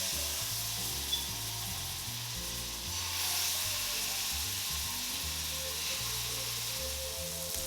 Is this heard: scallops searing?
yes